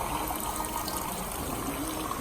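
Soda water poured into a glass of Jim Beam whisky at a bar in Japan, a loud continuous fizzing gush that fills the whole moment, no talking over it.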